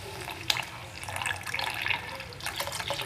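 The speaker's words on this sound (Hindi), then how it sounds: "अब मैं डाल दूँगी इसमें दूध।" Milk poured into tea, a faint soft trickle of liquid with small splashes, quiet and close, with no voices.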